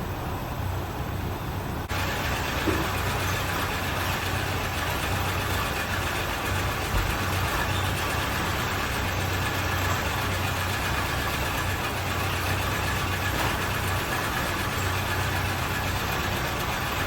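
The old engine of a 1974 Chevy C20 truck, left sitting 25 years in the desert, runs steadily with a low rumble and rough, knocking texture, continuous and fairly close, with no talking.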